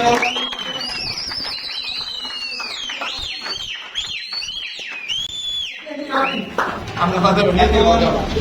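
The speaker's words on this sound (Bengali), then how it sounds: "চ্যাম্পিয়নের জন্য সিটি প্লাস করতালি সিটি" At a prize-giving ceremony for a 30 km tournament, a crowd cheers the champion with shrill rising and falling whistles, followed by a burst of clapping and cheering toward the end.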